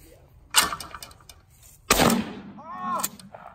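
Gunshots ring out outdoors: two sharp, loud blasts several seconds apart, each trailing off in echo, with people talking faintly between them.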